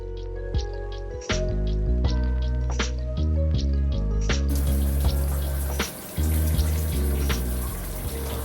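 Shower water runs steadily during body washing with a sponge and exfoliator, a continuous close hiss and splash that grows fuller and brighter about halfway through, with faint squishing under the flow and no talking.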